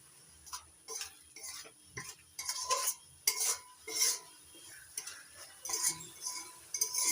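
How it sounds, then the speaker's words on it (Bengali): Spice paste with tomato paste is sautéed for a jackfruit and prawn dish, with irregular spoon taps and scrapes against the pan and soft sizzling between them, fairly quiet and close. "টমেটো বাটা দিয়ে আবারও কষিয়ে নেব যতক্ষণ না পুরোপুরি তেল ছেড়ে দিচ্ছে মশলা থেকে"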